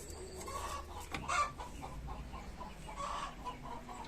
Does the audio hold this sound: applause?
no